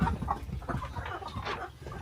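Black Australorp roosters clucking in a close, continuous flock murmur, low throaty clucks and calls overlapping steadily with no gaps.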